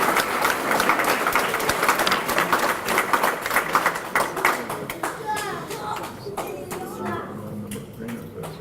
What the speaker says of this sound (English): Give Jordaia a round of applause, please.